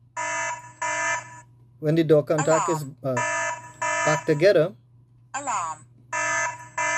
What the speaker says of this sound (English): So if the door contact is broken, alarm. It will sound an alarm.